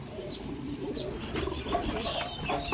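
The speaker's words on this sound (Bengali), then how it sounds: "দেখুন এটা নর পায়রা আছে" A male Madrasi pigeon coos softly at close range, with a brief burst of wing flapping mixed into the short, low murmur.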